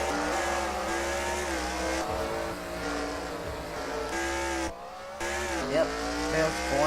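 Race cars at a racing event pulling in, steady loud engine drone with harmonic whine and brief tire noise, continuous throughout with a short dip near the end, no voices.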